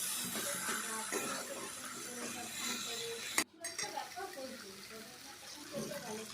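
Banana flower curry, mochar ghonto, stirred in a pan, with steady scraping and clinking of a spoon against metal over continuous background noise, one louder knock midway.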